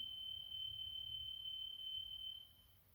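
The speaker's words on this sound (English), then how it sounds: "I'm never quite sure whether alarms are actually in this building or something else" A steady high-pitched electronic alarm tone sounds inside a building, continuous and fairly faint, then cuts off near the end.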